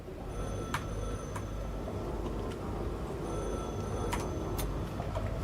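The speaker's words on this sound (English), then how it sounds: "I hear a phone! It's driving me crazy!" A telephone rings in the video game The Last Caretaker, repeated bright electronic ring bursts at regular intervals over a steady low mechanical hum.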